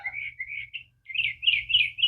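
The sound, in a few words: birds chirping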